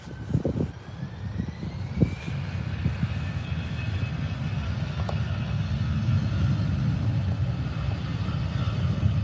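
A fixed-wing airliner takes off at Birmingham Airport, its jet engines building into a loud, sustained roar. A few thumps and knocks come at the start, then the broad rumble holds steady and powerful, with a thin whine above it.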